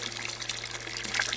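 A low-cost diaphragm pump runs steadily, pushing water through its tube with a continuous gushing, splashing wash over a faint electrical hum, close and even throughout.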